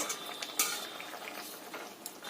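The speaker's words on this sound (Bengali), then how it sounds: "ঝোলটা আমার ফুটে গেছে এতে আমি দিয়ে দেব ভেজে রাখা বড়াগুলো দিয়ে ভালো করে নেড়ে নিতে হবে" Fried vadas go into a pot of boiling gravy for a potol recipe, with a faint bubbling simmer broken by soft clinks and scrapes of a spoon stirring against the pot.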